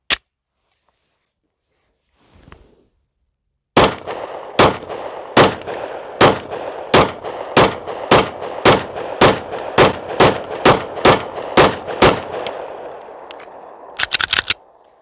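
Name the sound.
Glock 43X pistol firing a full magazine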